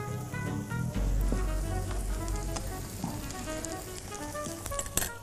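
Butter melting and sizzling in a hot frying pan while French toast fingers are cooked at home, a steady close crackle and hiss with light stirring and pan knocks, no talk.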